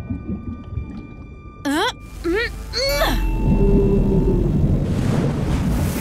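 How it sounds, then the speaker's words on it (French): An animated gray whale blasting air through its blowhole, a loud sustained rushing spray that swells and lingers after a few squeaky cartoon voice calls. "J'ai fait peur à une baleine grise et elle t'a soufflé par son évent."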